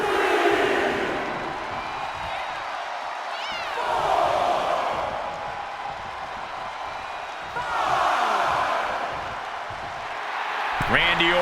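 A wrestling arena crowd cheering at a Randy Orton match, a dense roar that swells and fades in waves with whoops rising over it and a sharp slam near the end, heard under steady commentary.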